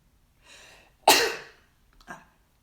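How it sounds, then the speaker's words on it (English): One sharp, loud sneeze follows a short breathy intake, then a smaller sniff or exhale comes a moment later, alone in a quiet room. "I always start sneezing when this window is open."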